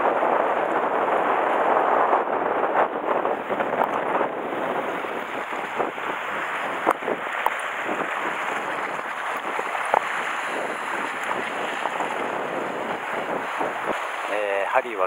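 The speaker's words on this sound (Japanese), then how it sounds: "爆風です、爆風。" Strong gusting wind buffets the microphone on a rainy fishing trip to Hatsushima, a loud, rough roar that surges and fades, with voices partly buried beneath it.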